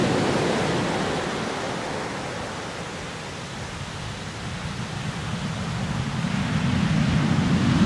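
Continuous roar of Indian Ocean surf, waves of 2-3 metres washing onto a sandy beach, a broad steady rush that swells louder toward the end, with no voices.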